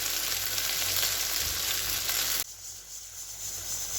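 A pan of mixed small-fish curry in mustard-oil gravy with mourala, bhola, puti and a couple of prawns sizzles and fries steadily up close, a dense continuous hiss that abruptly drops to a softer sizzle halfway through.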